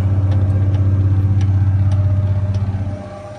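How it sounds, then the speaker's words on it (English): A tractor engine runs with a steady low drone while chisel plowing a field during spring tillage, close and loud throughout, easing off slightly near the end, with no voices. "Out here chisel plowing"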